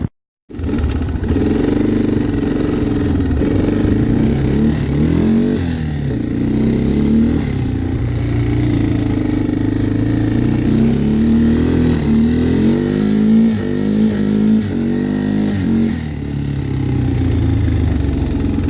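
Two-stroke motorcycle engine ridden along a snowy trail, running loud and close throughout with rising and falling revs as the throttle opens and eases off.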